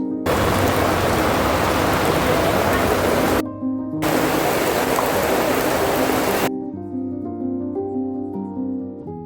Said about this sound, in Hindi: जैसे हम पहुँचे तो बारिश होने लगी बहुत तेज़